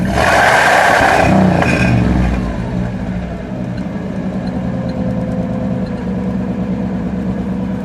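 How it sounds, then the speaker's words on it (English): A 1955 Chevrolet Bel Air Nomad engine idles a little high, loud and close, with a fuller burst of revving in the first two seconds before it settles into a steady, even rumble. "Sounds like a little high idle."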